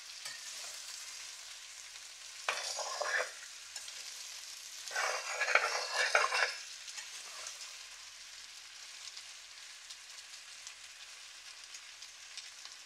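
Tomatoes cooking in a pan for bistec a la mexicana, a soft steady sizzle with two louder bursts of stirring and spattering, close but gentle.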